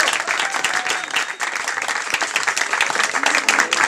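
Loud, dense applause from a gathered crowd in Salazie, Réunion, for a newly graduated pastry chef, many hands clapping continuously at close range and holding steady throughout.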